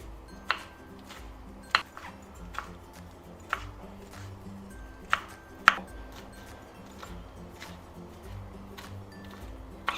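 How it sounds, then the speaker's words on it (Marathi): Knife finely chopping fresh fenugreek leaves on a board, close and crisp, irregular sharp chops about one every second with small ticks between, over quiet background. "आता आपल्याला ही मेथी बारीक कापून घ्यायची आहे।"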